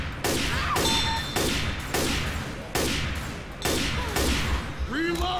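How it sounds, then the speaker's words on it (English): Rapid gunfire from Left 4 Dead 2 in realism versus mode, repeated bursts of shots in quick succession filling the whole stretch, loud and close, with voices calling out faintly underneath. "Why would you shoot Brad?"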